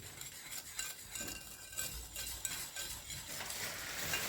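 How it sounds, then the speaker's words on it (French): Egg-free cake batter for a Christmas yule log being stirred and mixed in a bowl, a continuous soft scraping and swishing with light utensil clinks, close and steady with no talking. "Je viens déjà mélanger tout ça."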